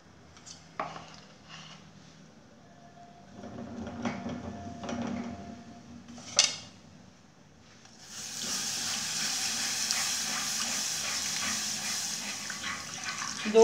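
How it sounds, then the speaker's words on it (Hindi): Milk poured into a pan of sautéed garlic taken off the heat for a creamy garlic sauce: a few light kitchen clinks, then a steady, fairly close liquid hiss that runs through the second half. "अब इसमें दूध डालेंगे, ये इसमें गुठलियाँ ना बने।"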